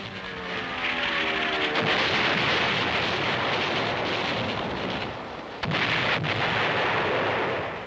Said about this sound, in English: The 40 millimeters let loose, the tracers pointing the accurate marksmanship.